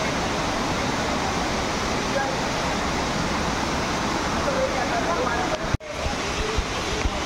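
A waterfall at the Bada Mahadev temple in Pachmarhi gives a steady, broad rushing roar close by, continuous throughout, broken only by a brief knock near the end.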